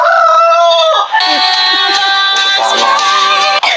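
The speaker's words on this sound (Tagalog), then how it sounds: "yung manok, nagtilaok" A rooster crows loudly and close, one long strained cock-a-doodle-doo call filling the whole moment with little else around it.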